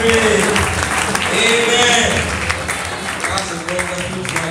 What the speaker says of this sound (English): Celebrate Jesus with your clap.